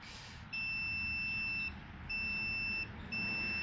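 An OVON B35T+ digital multimeter's continuity test gives a steady high-pitched beep three times in long tones, each lasting about a second, over a low background hum.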